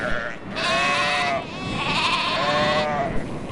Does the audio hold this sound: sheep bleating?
yes